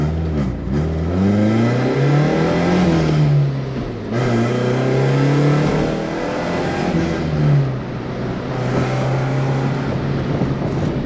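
A rare Mercedes with a four-cylinder engine pulls hard through the gears, its engine note rising in pitch under acceleration, dropping at each shift and climbing again, loud and close from inside the car with wind noise and no talk.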